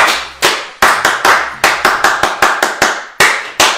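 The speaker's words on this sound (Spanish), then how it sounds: "A ver, un aplauso. ¡Un aplauso!" Sharp, loud claps land in uneven bursts, about a dozen distinct slaps over a few seconds, as a small group gives a round of applause in a sports-style cheer, close and dry with no talk over them.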